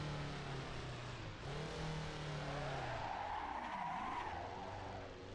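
A car slides sideways through a mountain-pass turn in a touge driving game, tire squeal and engine note sweeping in pitch as the handbrake drift swings through, loud and alone.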